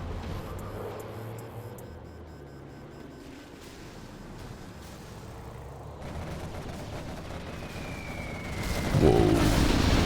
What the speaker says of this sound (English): Carpet bomb from the Air Force clears up the quads inside of the base.